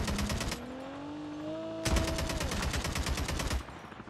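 Rapid bursts of automatic gunfire in an online duo tournament game, firing at a helicopter after grenades were thrown, come in two dense, loud volleys with a short pause between them and engine whine underneath.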